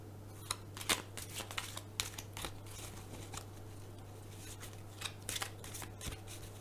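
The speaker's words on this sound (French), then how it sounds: "Je vais vous tirer une carte de l'oracle" Oracle cards of a lovers' deck being shuffled by hand, soft quiet riffling and flicking in irregular bursts against a faint steady hum, with no talking.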